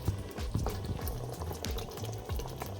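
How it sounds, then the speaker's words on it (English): Water from a big cup pours into a pressure cooker over pieces of goat meat, a steady splashing and gurgling stream with bubbly liquid sounds, close and continuous, without talk. "And I'm gonna add 1 cup water, 1 big cup of water."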